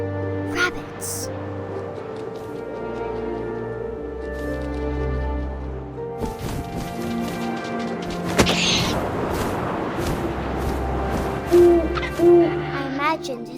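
An owl hoots during gameplay of What Remains of Edith Finch, repeated clear hoots over droning music, wind and crashing game effects, with a narrating voice speaking over parts.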